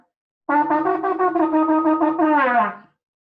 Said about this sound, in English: So I'm going to blow the shofar again for you.